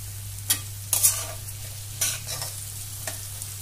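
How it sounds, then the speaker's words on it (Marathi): Cabbage and spring onion are stir-fried for chapati noodles, a soft sizzle over a low steady hum, punctuated by a handful of quick spatula scrapes. "अर्धी वाटी कांदा पात सुद्धा आपण थोडंसंच परतून घेणार आहोत।"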